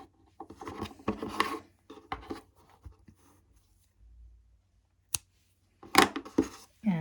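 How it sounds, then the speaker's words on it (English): Scissors snip through crochet yarn with a few short, close cuts, surrounded by light handling noises and rustling, with quiet gaps between the sounds. "and now you can cut this yarn"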